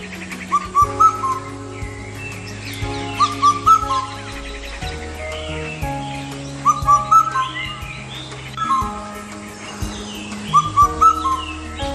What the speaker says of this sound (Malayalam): വിഷു പക്ഷി, അല്ലെങ്കിൽ ഇന്ത്യൻ കുക്കു എന്നാണ് ഇതിനെ അറിയപ്പെടുന്നത്